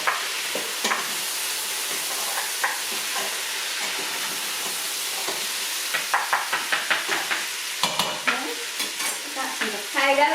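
Celery and carrots stirred in a pot for beef stew: a continuous close sizzle with a run of rhythmic scraping strokes from a spoon against the pot, quickening near the end.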